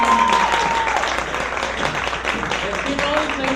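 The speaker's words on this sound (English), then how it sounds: "Let's keep always ladies a big round of applause." Audience applause for contestants at the Miss Art Deco Pageant 2018, sustained clapping throughout at a steady loud level, with a voice speaking over it near the start.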